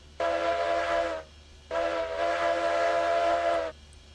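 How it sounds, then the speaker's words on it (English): Steam locomotive whistle in the RailRoads Online video game: two loud, throaty blasts, a short one of about a second and then a longer one of about two seconds, standing alone with no talk. "Nice throaty whistle."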